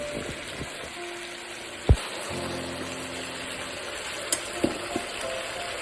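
Curry of potatoes and vegetable stems sautéing in a pan, a soft steady sizzle and frying hiss throughout with a few sharp clicks of stirring against the pan, heard up close with no talking.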